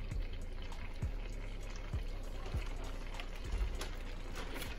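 Mushroom marinade juice poured over mushrooms cooking in a pan, giving a soft, steady liquid trickle with faint splashes, quiet and close.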